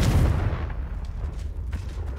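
A Confringo fire spell detonating in Hogwarts Legacy, a heavy low rumbling blast with a crackling tail that fills the whole moment, close and loud.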